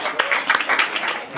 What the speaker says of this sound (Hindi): सेवन परमेश्वर को जोरदार तालियों के साथ धन्यवाद देती हैं।